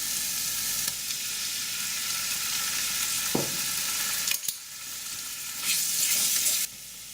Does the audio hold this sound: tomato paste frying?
yes